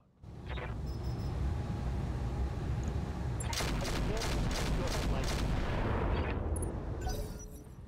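Heavy weapons fire in the BattleTech RogueTech video game, a dense continuous barrage of booming cannon and autocannon shots with a rapid burst of sharp reports in the middle, loud and close throughout.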